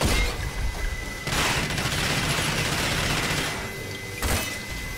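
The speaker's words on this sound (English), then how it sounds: "I don't know why this room is exploding, but it is" Explosions rip through a room in the video game RAGE, a dense roar of blasts and crackling debris that surges loud in bursts over about five seconds, with no talking.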